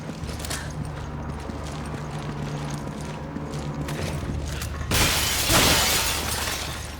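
Sudden loud crash of glass breaking in Resident Evil 5, a bright shattering burst that follows a stretch of low rumbling game ambience and then fades into rattling debris.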